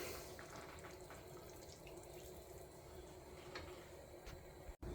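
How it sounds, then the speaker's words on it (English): Homemade beef bone broth pours steadily into a pot of goulash, a continuous watery rush with faint splashes throughout, no talking. "we're going to add 3 cups of beef broth"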